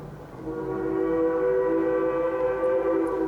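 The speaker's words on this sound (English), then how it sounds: "We have our famous Durango Silverton narrow gauge railroad." The Durango Silverton narrow gauge railroad train in Durango, Colorado sounds a sustained steam whistle or horn, a loud steady chord of several tones with a faint rumble beneath.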